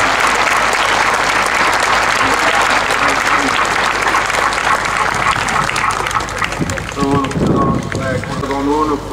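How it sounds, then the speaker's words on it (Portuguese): A crowd at a children's archdiocesan pilgrimage to Sameiro gives a sustained round of outdoor applause, steady and full, with wind buffeting the microphone and a voice cutting in near the end. "uma salva de palmas"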